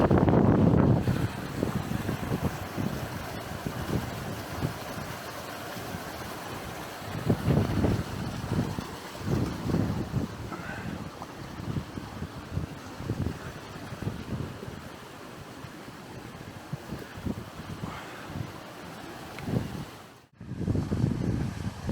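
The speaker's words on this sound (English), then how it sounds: "The wind's lashing, the weather's changed in the last 10 or 15 minutes" Strong, gusty wind buffets the microphone in exposed moorland at Kinder Downfall, a loud continuous roar with surging low-frequency blasts and a brief lull near the end before the gusts return.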